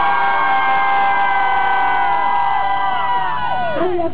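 A concert crowd at an outdoor festival screams and cheers loudly and continuously, a sustained mass of high-pitched voices that wavers and slides in pitch, fading somewhat toward the end.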